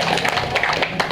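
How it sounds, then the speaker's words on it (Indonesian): An audience at a halal bihalal gathering of the IKBM Bukit Sawangan Indah community claps together in a short, dense burst of applause, with close, rapid hand claps filling the moment. "Ya, silakan tepuk tangan"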